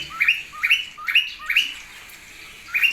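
Budgerigar and cockatiel chicks chirping in short repeated bursts, high and thin, close by with brief pauses between calls.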